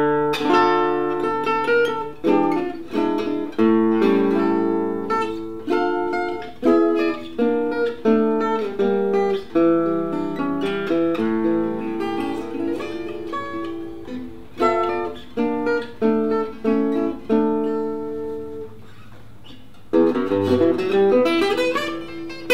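A solo Maurice Dupont Nomade acoustic gypsy jazz guitar plays a lively, bright melody with quick picked runs and strummed chords, clear and close with no voices.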